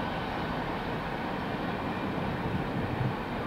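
A CSX freight train rumbles past close by in a steady, broad roar of wheels and rolling cars, with no pauses for the whole stretch.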